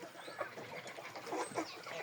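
Young Jersey Giant and Livny breed chickens cluck and chirp in soft, scattered bursts close by, with no talking.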